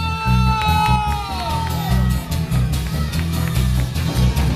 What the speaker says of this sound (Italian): E lui è Mario, un applauso!